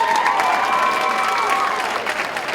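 A crowd at a teen conference applauds and cheers steadily and loudly for a young woman called up front, with voices shouting through the clapping.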